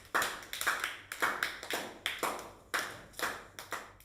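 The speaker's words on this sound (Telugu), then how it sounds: "Claps for Ajay." A small group claps together with sharp, uneven hand claps in a steady burst lasting a few seconds. It sounds close and fairly quiet, with no voices over it.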